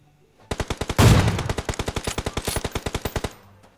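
A burst of automatic gunfire in PUBG Mobile, roughly twenty sharp shots in fast even rhythm, close and loud, with one heavier blast near the start, standing alone without talk.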